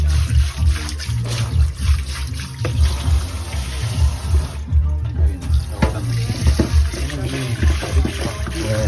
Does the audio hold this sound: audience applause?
no